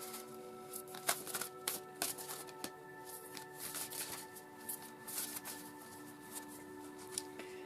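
Oracle cards shuffle in quick, crisp riffling bursts, faint and close, with small irregular clicks and slaps of the deck and no voices.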